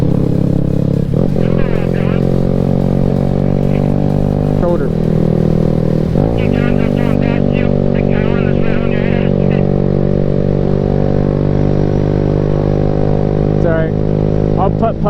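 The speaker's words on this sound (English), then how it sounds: "my little moped." A small moped engine drones steadily at close range while riding, its pitch shifting briefly as it revs, with people talking over it.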